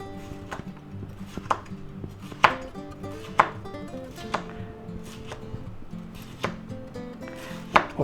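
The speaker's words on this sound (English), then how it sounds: "we'll slice up our nice red bell pepper" A knife chops a red bell pepper in a series of irregular taps on a cutting board, close and clear, with a few louder strikes among lighter cuts.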